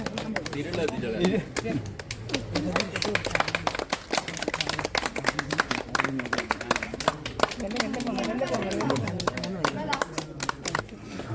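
A group of people claps hands at an inauguration ceremony, a dense run of sharp, rapid claps close by, mixed with ongoing talk and voices.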